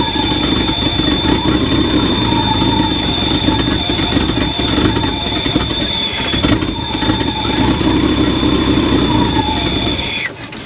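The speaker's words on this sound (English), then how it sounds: "It's a good running little engine." An old, long-abandoned Chevy dump truck engine idles close by with an exhaust leak, giving a steady, loud mechanical drone with a constant whine running over it that holds evenly before dropping off sharply at the very end.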